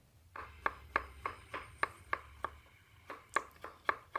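A knife slices thinly through garlic cloves on a board, about a dozen crisp, evenly spaced cuts with a brief pause midway, close and clear with no talk.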